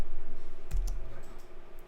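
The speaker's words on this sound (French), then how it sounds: "Touche tabulation sur le clavier, ça valide." A single tab key pressed on a computer keyboard, one sharp click against a low steady hum, with no voice.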